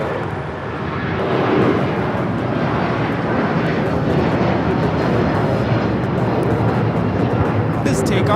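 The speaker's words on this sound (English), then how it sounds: "This takeoff is United Airlines 1069 taking off to Chicago on the 757-300." A United Airlines Boeing 757-300 roars down the runway on takeoff at LAX, a loud sustained broadband jet rumble that holds steady throughout.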